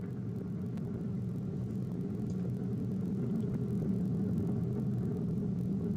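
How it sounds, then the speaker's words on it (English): The Ariane 5 launching the James Webb telescope produces a continuous deep rumble, steady and even, heard from inside the control center with no speech over it. "The rumble of the powerful Ariane 5 now being felt here in the control center."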